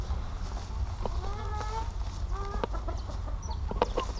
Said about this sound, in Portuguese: O frango índio gigante com 90 dias.